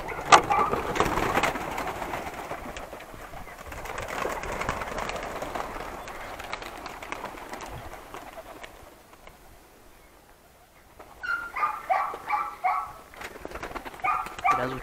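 Pigeons on a farm, hungry and gathering for feed, give soft cooing and bird calls over a busy background. A flurry of louder calls near the end suggests the birds are being stirred up or released.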